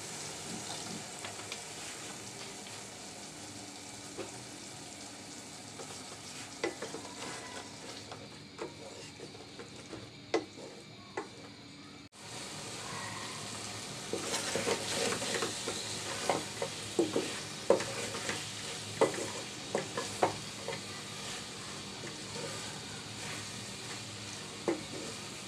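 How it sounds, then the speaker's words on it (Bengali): Kochu loti, taro stolons, stir-fried in oil with red chili powder and a little water in a pan, giving a steady sizzle with scraping spoon strokes and clinks, louder in the second half after a brief break, with no talking. "অল্প করে পানি দিয়ে কষিয়ে নিচ্ছি।"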